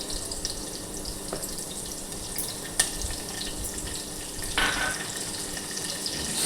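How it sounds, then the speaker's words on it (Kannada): Ginger garlic paste and curry leaves frying in hot oil, a faint steady crackle with a few sharper pops and a brief splash-like hiss. "ಶುಂಠಿ ಬೆಳ್ಳುಳ್ಳಿ ಪೇಸ್ಟ್ ಎಣ್ಣೆಯಲ್ಲಿ ಚೆನ್ನಾಗಿ ಫ್ರೈ ಆದ ನಂತರ"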